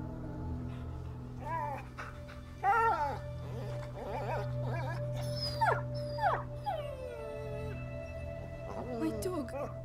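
A dog in A Plague Tale: Innocence whimpers and howls in a series of high, wavering cries over a steady low hum, with short pauses between the calls and a voice speaking at points.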